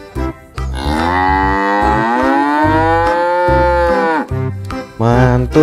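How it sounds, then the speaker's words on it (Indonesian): A toy cow gives several loud, drawn-out moos close up, each long bellow followed by shorter calls over a simple rhythmic electronic backing tune. "Sapi."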